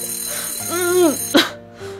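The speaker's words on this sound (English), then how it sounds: "Oh god, that alarm, no!" A bedside alarm clock goes off with a short ringing burst and a few electronic tones, heard close and loud amid a brief voice.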